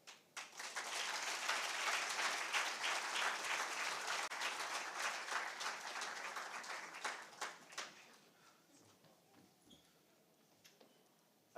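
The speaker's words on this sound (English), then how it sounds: "A big round of applause for all that's happened in the Transform Africa Summit" Audience applause at the closing ceremony of the Transform Africa Summit 2023, a full round of crowd clapping that swells quickly, holds for about eight seconds, then thins out into scattered claps.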